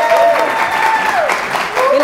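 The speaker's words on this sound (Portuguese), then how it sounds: "Queria que você recebesse com aplausos" Studio audience applauding a guest commentator on a Brazilian comedy talk show, steady clapping throughout with voices and tonal sounds mixed over it.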